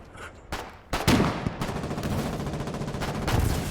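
Rapid gunfire and rocket blasts in the war game Foxhole during colonial frontline fighting, starting with a few sharp shots, then a loud burst followed by a sustained, dense rattle of automatic fire and explosions.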